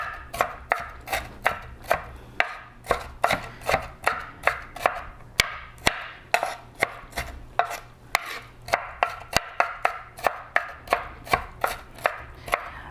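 Vegetables for pico de gallo chopped on a cutting board, a steady run of sharp knife knocks at a quick even pace, close and clear with no talk.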